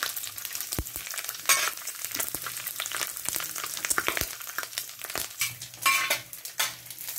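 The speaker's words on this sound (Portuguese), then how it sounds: "vou colocar só depois que eu fritar aqui o torresmo" Pork cracklings (torresmo) fry in a pan for feijão tropeiro, giving a continuous close crackle and sizzle broken by occasional utensil scrapes and clinks against the pan.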